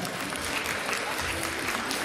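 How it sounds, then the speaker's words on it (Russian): An audience at a festival in Yakutsk claps in a loud, continuous burst of applause, dense and unbroken for the whole stretch, with a voice faintly mixed in. "Встречаем с овациями. Бурные аплодисменты, друзья!"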